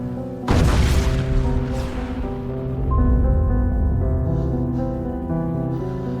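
A loud, sudden blast erupts and then fades into a sustained rumble as dramatic music continues underneath.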